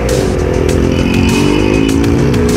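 Suzuki GSX-R 600 sportbike exhaust, ridden at low revs, gives a loud, close, steady engine drone with a rich harmonic rumble throughout.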